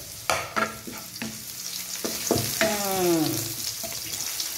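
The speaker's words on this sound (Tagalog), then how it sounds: "At ilalagay na natin ang ating sibuyas." Onions dropped into a hot pan and frying for ginataang langka with chili, with sharp scraping stirs and clanks from a utensil over a rising sizzle, close by, with no talk.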